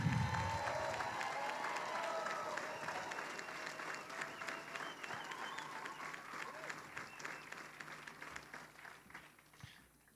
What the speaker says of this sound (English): Let's give one more round of applause to our women's elite field.